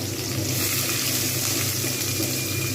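Onions drop into hot spiced oil and fry over medium-high heat, producing a loud, continuous, close hiss with a watery sound and no talking.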